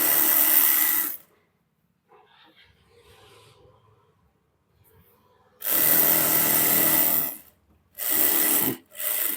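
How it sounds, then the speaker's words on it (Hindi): A sewing machine stitching Afghani salwar fabric, loud close whirring bursts: one at the start, a quiet gap with faint handling, then a longer run and two shorter bursts in quick succession. "दोबारा से सिलाई लगाएंगे।"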